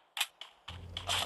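Gunfire in the mobile shooter Free Fire on Android: a quick sequence of sharp, snappy shots, two isolated cracks followed by a denser close burst, with nothing else audible.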